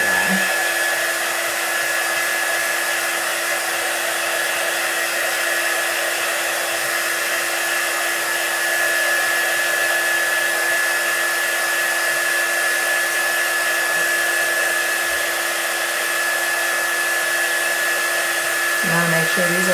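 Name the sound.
drying painted chalk pieces with a hair dryer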